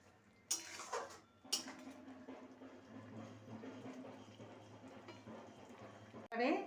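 Eggplant in yogurt is stirred in a pot, with a couple of sharp utensil clanks at the start, then a soft, steady stirring murmur and another metallic knock at the end.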